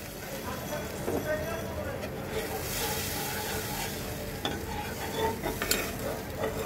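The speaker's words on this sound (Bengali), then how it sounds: "এই আমি দিয়ে দিলাম ঝোলের জল।" Water for the broth goes into a pan of sizzling spices for a fish curry, producing a loud, steady hiss with stirring scrapes and clinks, while someone talks over it.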